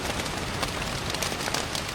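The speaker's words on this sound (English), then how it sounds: "As you see, the rain is falling really heavy outside here." Heavy rain falls outside a makeshift wilderness shelter, a dense, steady hiss of drops pattering on surfaces close by, loud and unbroken with no voices.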